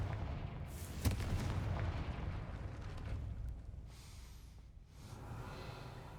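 A Confringo fire spell blasts in Hogwarts Legacy, a dense booming burst with a sharp crack near the start that rolls on as a sustained rumble, dipping briefly before swelling again; no talk.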